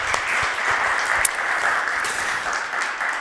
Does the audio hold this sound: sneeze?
no